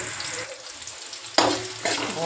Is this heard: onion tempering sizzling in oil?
yes